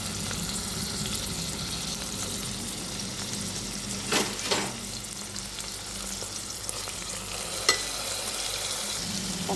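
Onions and fresh ginger-garlic paste sizzle steadily in hot oil for a mutton curry, with a soft continuous crackle and a couple of brief stirring clatters.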